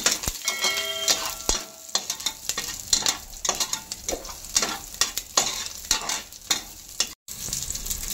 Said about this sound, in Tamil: அடுத்து வந்து இந்த வெங்காயத்தை இதெல்லாம் போட்டுக்கலாம். நல்லா தெரிக்குது.